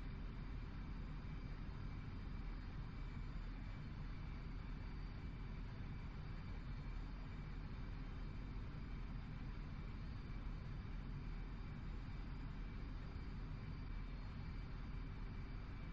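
Steady, continuous aircraft engine drone in the DCS flight simulator game, a constant low rumble with a faint high whine running evenly throughout, with no speech.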